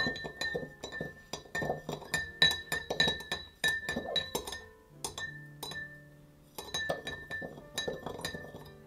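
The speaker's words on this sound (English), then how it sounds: "Now I'm just giving it a little bit of a stir." Glass clinking as an absinthe cocktail is stirred in a glass, a rapid run of bright, close chinks and taps with a brief pause midway before the clinking resumes, no talking.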